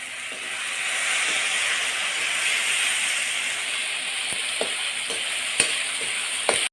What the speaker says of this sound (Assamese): বিলাহীখিনি পূৰা গলিব লাগিব, তেলতে সিজিব লাগিব বিলাহীখিনি